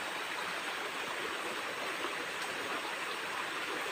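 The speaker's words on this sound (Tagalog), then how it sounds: "Yung mga sapa ito nagsanga" A mountain stream branching as it flows toward a forest makes a steady, even rush of water that is faint and continuous, with no voices.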